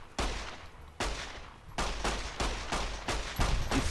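Bursts of 9mm pistol fire in Fallout New Vegas ring out in a quick, uneven series of loud, close shots, with several evenly spaced cracks and a denser cluster near the end.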